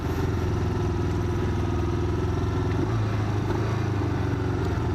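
A motorcycle engine thrumming under load while riding, a loud, deep, continuous rumble with rattly overtones, close up and uninterrupted.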